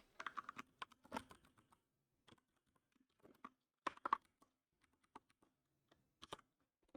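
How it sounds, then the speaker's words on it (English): Typing on a computer keyboard comes as quiet, close bursts of rapid key clicks separated by short pauses. "I'm going to type it."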